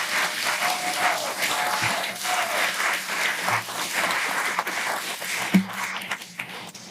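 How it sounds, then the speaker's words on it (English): A church congregation welcomes a guest preacher with steady, moderately loud applause, many hands clapping continuously with a few sharper individual claps and taps standing out. "Give her a round of applause."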